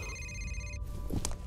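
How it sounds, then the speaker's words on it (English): A telephone rings in the horror shooter game F.E.A.R., a bright electronic bell tone sounding for under a second, fairly faint and seemingly from another room, followed by a short muffled clatter. "Is that for me? Oh, where's the phone?"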